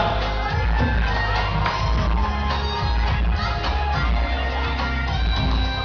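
A concert audience at a show at GMC Nha Trang claps and cheers in a loud, dense, continuous wash of crowd noise, with music carrying on underneath.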